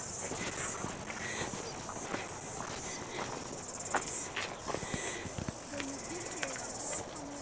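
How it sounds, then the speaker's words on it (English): Steady high-pitched cicada buzzing hangs over Wai-O-Tapu geothermal park, New Zealand, joined by soft footsteps and small crunches close by. "You can hear the cicadas."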